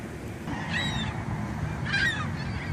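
Goose on a street corner where it is laying eggs, giving two loud nasal honks about a second apart over steady outdoor traffic rumble.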